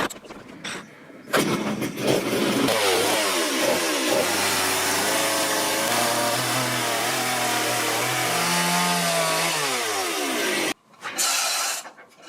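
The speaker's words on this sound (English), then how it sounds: "the only option was to cut the entire section out with the chainsaw and lower it" A chainsaw cuts through rotted timber in a 300-year-old barn under restoration, a loud, steady engine drone whose pitch rises and falls as the bar bites into the wood, running continuously before cutting off near the end.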